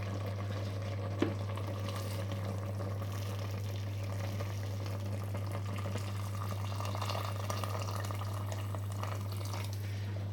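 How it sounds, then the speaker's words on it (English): Water runs and splashes into a cooking pot of fish soup for several seconds over a steady low electrical hum, with no voices. "Now what I'm going to do is I'm going to top this up with water."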